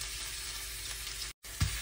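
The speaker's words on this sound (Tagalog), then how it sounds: "So gisahin lang natin yung ating sibuyas guys hanggang mag-translucent yung ating sibuyas" Onion sautés with garlic in a pan for stir-fried cabbage, producing a loud continuous hiss with a brief break and a soft knock near the end.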